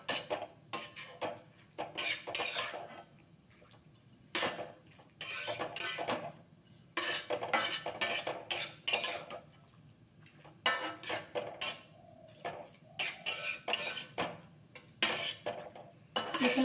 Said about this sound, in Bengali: এবার এটাকে আমি মিশিয়ে নেব ভালো করে, একদম ভালো করে এটাকে মিক্স করে নেব।